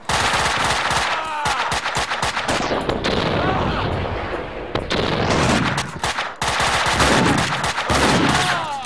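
Loud, close bursts of gunfire from the video game Max Payne 2, rapid automatic fire in long runs with brief gaps, aimed at the player.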